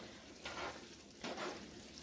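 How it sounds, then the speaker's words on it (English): A spoon stirs ground meat and marinara sauce together in a pan, making two soft wet scraping sweeps over a low sizzling background, quiet and close with no speech. "I'm just trying to stir this together."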